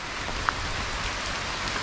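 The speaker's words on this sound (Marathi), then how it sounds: "आता एकदम रिमझिम पाऊस आहे एवढा काय नाही पण ते झाडावर जे थेंब पडतात ना त्यांनी माणूस जास्त भिजतो" Light monsoon drizzle drips onto jungle trees along a forest trek, a soft, even patter and hiss that continues without a break, with one faint tick early on.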